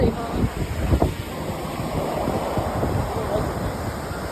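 Surf and gusting wind on a Pensacola, Florida beach on a cool January day, a steady broadband wash of waves with wind buffeting the microphone, loudest in the first second and then rolling on evenly.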